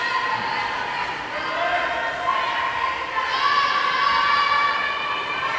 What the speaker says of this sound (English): You got the rest of the Pelmac team up there on the deck, on the side there, cheering their team on.